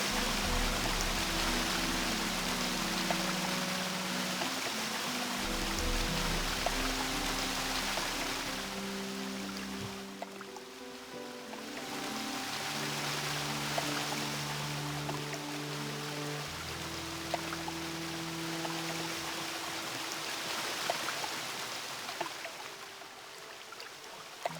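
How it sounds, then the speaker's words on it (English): Steady rushing water of a waterfall in the video game Gothic II, a broad continuous roar that swells and dips in loudness with soft tonal game sounds layered over it, no speech. "how loud the waterfall is in some parts, like when I'm turning around"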